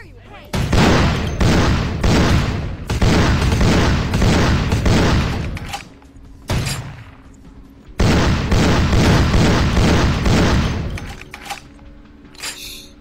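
Rapid bursts of pistol gunfire in the video game Vampire: The Masquerade Bloodlines, loud and close, come in several dense volleys with short pauses and a few softer thuds between them.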